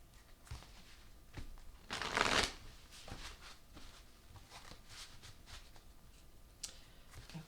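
Tarot cards being shuffled by hand in repeated riffling bursts, the loudest flurry near the middle, with softer card taps and slides around it and no talking.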